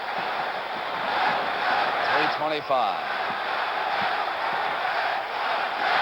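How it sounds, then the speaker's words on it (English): A Boston Garden basketball crowd chants "Let's go Celts" during a Celtics playoff game against Cleveland, a distant rhythmic roar blended into steady arena noise under a commentator's voice. "You can hear the crowd chanting, "Let's go Celts.""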